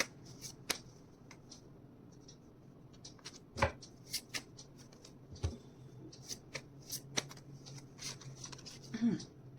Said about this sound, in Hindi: मैं फिर से शफल कर लेती हूँ